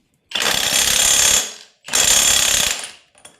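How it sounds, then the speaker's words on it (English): An impact wrench on a Beta 390 RR-S motorcycle fires two loud, sustained rattling bursts of about a second and a half each, with a faint short tap trailing after. "we're going to bust out the impact wrench on this one"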